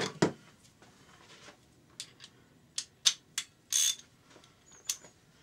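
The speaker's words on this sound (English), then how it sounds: "we'll screw it down" A tool is screwed down onto a Yamaha XT600 engine casing to press out a bearing, giving scattered close metallic clicks and short ratcheting bursts separated by quiet pauses, low in level.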